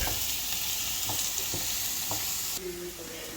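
Chicken stir-frying in a hot pan for Thai green curry, a loud, continuous sizzle with a few soft stirring scrapes, close and unbroken, quieting slightly near the end.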